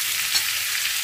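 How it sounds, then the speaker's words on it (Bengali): Potatoes frying light brown in a frying pan give a soft, steady hiss of oil, faint and even throughout. "এখানে আমার কিন্তু পোটাটোটা হালকা ব্রাউন করে ভাজা হয়ে গেছে"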